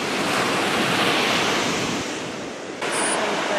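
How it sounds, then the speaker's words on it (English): Strong wind gusts and crashing ocean surf on a beach in Mexico, a loud, continuous roar of breaking waves with blustery wind buffeting close by, no voices. "It's so windy."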